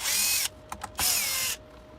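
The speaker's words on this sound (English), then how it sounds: "Okay, so we need to remove these screws." A cordless power drill backs screws out of a Tineco Floor One S3 cordless vacuum, two loud close whirring runs of about half a second each with a couple of brief trigger blips between them.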